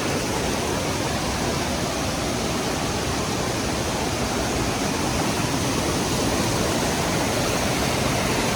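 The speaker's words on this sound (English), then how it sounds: "We found our waterfall." Waterfall on the Rio Savegre in Costa Rica during a forest hike, a steady, loud, broadband roar of rushing, crashing water that fills the whole clip without letup and with no voices.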